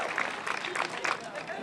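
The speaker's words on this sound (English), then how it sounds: "How about another round of applause for Mr. Caulfield, his Pink Bucket Band, and our chorus of students" Outdoor audience at a school's 50th anniversary ceremony clapping for a bucket band and student chorus, a short burst of scattered applause with a few distinct claps.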